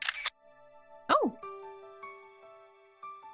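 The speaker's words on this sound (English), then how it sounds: "I was startled by the sudden sound of a shutter" A camera shutter effect in a visual novel game snaps sharply once after a brief voice, followed by a soft, sustained tonal chime from the game's background music.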